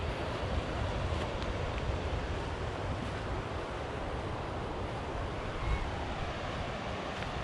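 Waves wash ashore at Tank Beach, Saipan, with a continuous rushing surf and gusting wind buffeting the microphone, steady and fairly loud with no voices.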